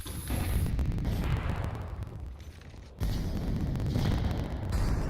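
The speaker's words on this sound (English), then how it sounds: "Ooh, that nade could have been big." Grenade explosion in a Counter-Strike match: a heavy, rumbling blast that swells, fades briefly, then a second sharp boom hits around the midpoint and rolls on, with gunfire-like crackle, fairly distant and moderately loud.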